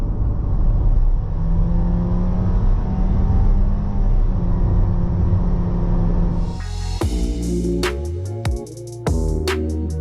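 An MG ZS Excite 1.5L SUV pulls at full throttle up a slight incline at about 80 km/h, a steady loud engine drone with road rumble that gives way near the end to sharp, bright clicks and tones from inside the cabin.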